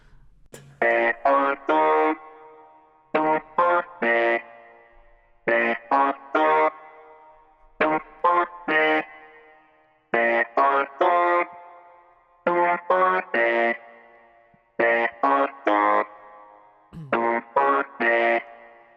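Robotic vocoder vocal made with iZotope Vocal Synth in a pop song production, sung in short harmonic phrases that repeat in regular bursts separated by brief gaps.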